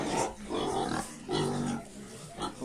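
Several pigs grunt and oink close by at feeding time on a farm, in repeated rough bursts with brief pauses between them.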